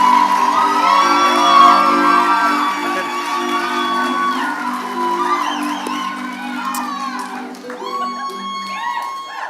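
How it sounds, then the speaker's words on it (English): A live storytelling audience cheers and whoops for a performer, a loud, dense crowd roar with shouts and cheering sustained throughout, with music tones underneath. "Keep that applause going for Bryan Kett."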